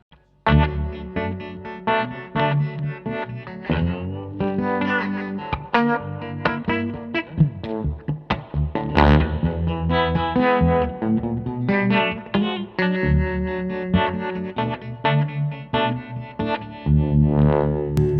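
An electric guitar plays chords and single notes through a reverb pedal effect with a washy reverb tail, sustaining steadily and fairly loud throughout.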